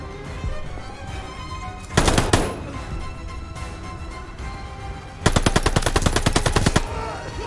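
MP40 submachine gun firing in the video game Call of Duty: Vanguard: a short loud burst near two seconds, then a longer rapid automatic burst of about a dozen rounds, close and sharp over game ambience.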